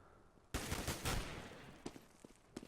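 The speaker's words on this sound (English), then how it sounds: "Kenny taking a lot of fire" Rapid bursts of rifle fire from Galil and AK-47 guns in a competitive Counter-Strike match, a dense loud volley followed by scattered single shots, with no talking.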